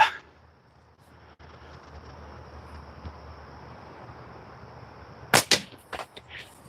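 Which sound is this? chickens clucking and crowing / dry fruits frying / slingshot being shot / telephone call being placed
slingshot being shot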